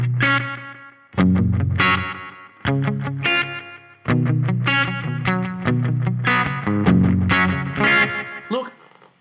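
Electric guitar played through a Boss GT-1000 effects processor, a series of strummed chords and ringing arpeggiated phrases with distortion and chorus, loud and close, ending in a fading swell, without speech.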